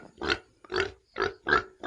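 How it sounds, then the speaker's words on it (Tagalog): A wild pig grunting four times in a steady rhythm, each grunt a short, rough, close snort with brief pauses between them and no talk. "Baboy damo yata ito ah."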